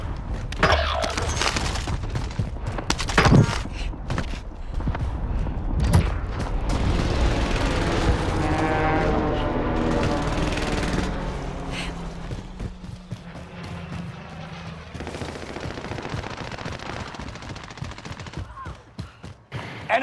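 Gunfire in the video game Call of Duty: Modern Warfare, scattered loud shots and bursts with booms across a chaotic firefight, shouting voices and game sounds layered throughout.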